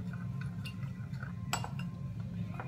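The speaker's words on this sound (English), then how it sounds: "So I'm gonna go ahead and mix that together really good here." A shrimp marinade is stirred in a bowl with a spoon-like utensil rather than a whisk, giving light, scattered clinks and taps of metal against the bowl over a low steady background hum.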